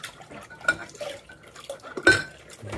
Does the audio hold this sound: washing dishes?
yes